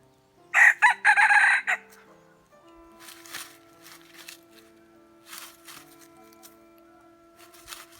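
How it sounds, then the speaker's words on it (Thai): A young rooster near a roadside field gives one loud, close crow, followed by softer scattered clucks and faint background noise. "ตัวนี้นะครับพ่อไก่"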